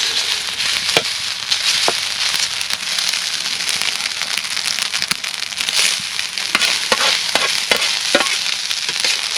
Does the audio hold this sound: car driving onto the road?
no